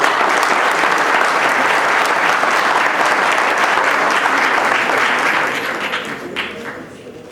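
Sustained applause from an audience at an electoral law course ceremony in Tijuana, loud and dense for several seconds before thinning out near the end.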